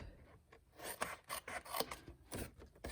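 Close, quiet scissor snips and rasping paper rub as a tab is trimmed off a cardstock Christmas candle gift box craft, a quick irregular series of short cuts with no voice over them.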